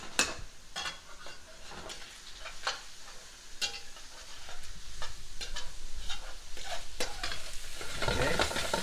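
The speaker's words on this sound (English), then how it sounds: "we're going to stir the pasta a little bit to make sure it's not sticking" Gemelli pasta stirred in a pot, with spoon scrapes and knocks against the metal sides recurring every second or so over a soft steady background hiss, close and clear.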